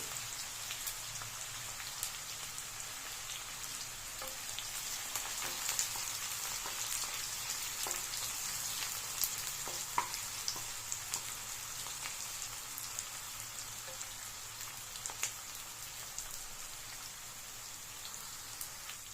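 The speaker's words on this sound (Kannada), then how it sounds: "ಚೆನ್ನಾಗಿ ಗೋಲ್ಡನ್ ಬ್ರೌನ್ ಬರೋವರೆಗೂ soft at least eighty percent fry ಆಗಬೇಕು ಅಲ್ಲಿವರೆಗೂ ಫ್ರೈ ಮಾಡ್ಕೊಳ್ಳಿ" Sliced onions fry in oil until golden brown for an egg gravy masala, giving a steady, faint, rain-like hiss of sizzling dotted with tiny scattered crackles, with no talk.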